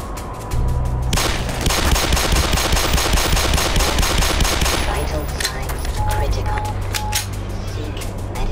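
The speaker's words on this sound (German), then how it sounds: "Ich werde ihm in den Arm schießen." Rapid automatic gunfire from the Black Mesa video game, a long sustained burst of close, loud shots followed by a second volley, with someone talking over the game sounds.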